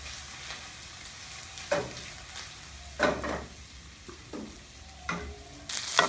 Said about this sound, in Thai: ทอดกุ้งดีก่อนครับ